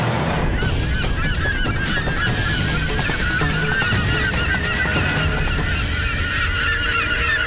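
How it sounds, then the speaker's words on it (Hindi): A large flock of geese honks continuously and loudly, many overlapping calls forming a dense, unbroken chorus as the birds approach. "पक्षियों का समूचा झुंड आ रहा है।"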